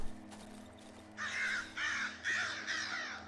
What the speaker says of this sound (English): Alright, got some spooky bird action.